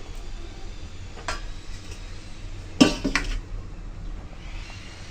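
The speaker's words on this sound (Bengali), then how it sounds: "তখন আমি ডাল তুলে নিচ্ছি।" Cooked chana dal is scooped from a pot, heard as a quiet background hum broken by a few faint taps and one sharp metal ladle scrape and clink midway.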